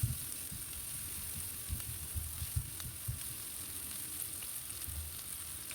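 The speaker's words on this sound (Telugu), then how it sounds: "ఇప్పుడు చాప్డ్ ఆనియన్స్ ఉంటాయి కదా, అవి అందులో వేసి మంచిగా ఫ్రై చేసుకోవాలండి." Chopped onions frying in hot oil in a pan give a continuous crackling sizzle with small spattering pops throughout.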